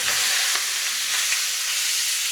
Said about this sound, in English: Cook the orange and the tomato on a really high heat with ghee